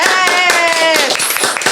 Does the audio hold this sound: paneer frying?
no